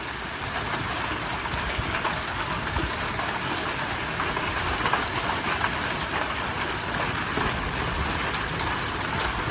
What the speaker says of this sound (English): It's actually ripping the branches off the tree. That's toonie sized hail.